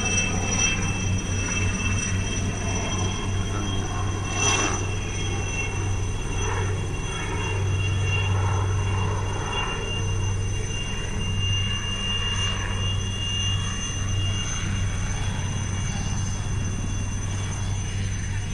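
A helicopter comes in to land at Klaaskreek near Brokopondo, a steady loud rotor and engine drone with a constant low hum and faint whine, continuous and close, no voices.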